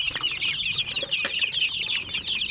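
Backyard chickens and chicks cluck and peep steadily while being fed, a busy chorus of high chirps close by with a brief flutter.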